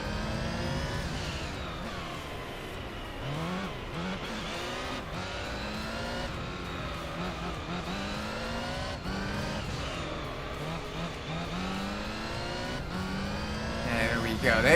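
Loud Gran Turismo 3 JGTC race car engine revving hard and continuously, its pitch climbing and dropping repeatedly through gear shifts, with a final surge at the end.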